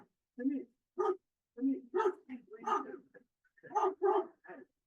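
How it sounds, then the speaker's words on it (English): Dog barking and whimpering excitedly at a reunion with its owner, a string of close, choppy yips and whines in quick bursts with short gaps between them. "Here comes the dog in the back."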